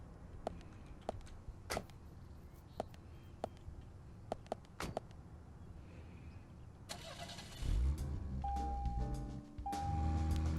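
In the game Deadly Premonition, scattered clicks and taps give way to a car engine cranking and catching, then a mid-pitched idle hum that steadies, fairly close and alone.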